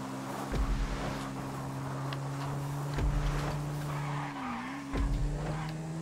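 Racing car in GTA 5 skidding into a post mid-race, with repeated tire screeches and thumps over a steady engine drone, three sharp skid bursts spaced a couple of seconds apart.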